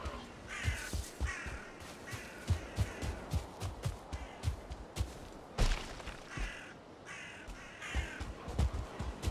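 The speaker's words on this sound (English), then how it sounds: "What are these crows doing?" Crows caw in the video game Valheim, repeated harsh calls, some close and some farther off, over a busy layered game soundscape with no speech.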